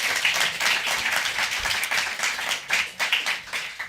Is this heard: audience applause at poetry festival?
yes